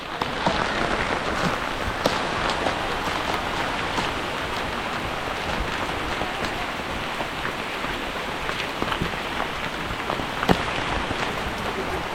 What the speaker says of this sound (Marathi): जाता जाता पाऊस जोरात आला, एकदम